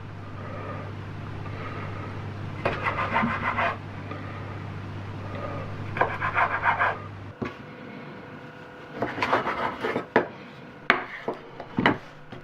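Knife cutting through a flour-dusted log of pumpkin bread dough into thick slices, giving short bursts of dull scraping and soft thuds on a board at close range, with a steady low hum during the first half and sharper knocks later.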